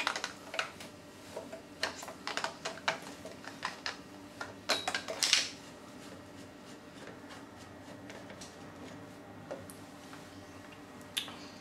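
Water filter housing on a HiFlo reverse osmosis unit being unscrewed with a key, heard as a run of sharp plastic clicks and ticks that bunch together, then give way to quiet with one last click.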